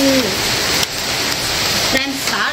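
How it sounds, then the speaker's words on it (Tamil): Steady rain falls outdoors as a dense, loud hiss throughout, with a brief pause and a short voice sound mixed in. "மழை வருது"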